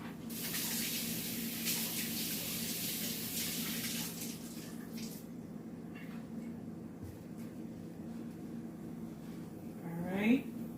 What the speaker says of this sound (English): let me just rinse my hands off a little bit.